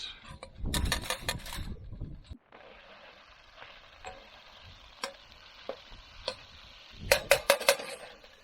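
Food tossed in a wok over a camp stove at Sandy Cape, Western Australia: bursts of metallic utensil clatter at the start and end bracket a soft, steady burner hiss, with a few isolated clinks in between.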